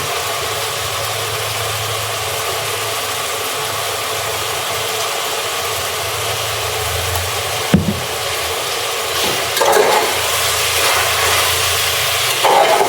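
Biryani masala fries in a pan with a steady, close hiss, broken by a sharp scrape partway through and a few brief stirring knocks later.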